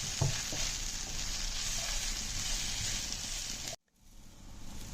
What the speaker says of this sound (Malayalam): ഇതിന്റെ പച്ചമണം മാറുന്നിടം വരെ നമുക്ക് ഇതിനകത്ത് ഈ എണ്ണയ്ക്കകത്തിട്ട് ഇത് കൂടി ഒന്ന് വഴറ്റി കൊടുക്കാം